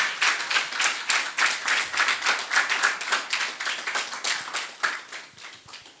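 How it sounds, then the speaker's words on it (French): Audience at a talk on AI education in Africa welcomes a guest with applause: brisk, fairly loud clapping from a smaller group, individual claps distinct and rhythmic, swelling in waves. "Nous allons recevoir avec des applaudissements bien nourris Monsieur Dalil Bello."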